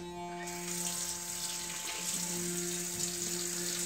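Tap water runs steadily into a bathroom sink while someone rinses their face during a beard shave, a close continuous splashing flow over a low steady hum, with no talk.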